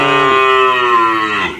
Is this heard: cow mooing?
yes